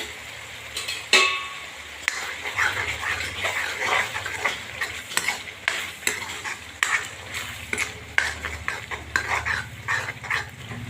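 Steady frying and sizzling with repeated scraping and clanking of a spoon mashing pav bhaji with tomato gravy in a pan, close and continuous.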